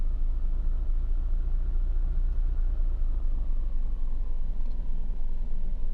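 A car engine in a horror video game rumbles steadily at a low pitch, a constant, fairly loud drone with no talk over it.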